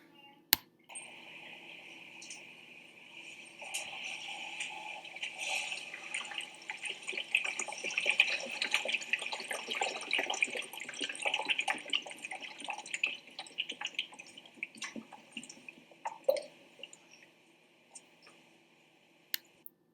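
Water trickles and flows steadily through a rotating transparent Pythagorean theorem demonstration model, with a continuous soft splashing that swells in the middle and fades toward the end.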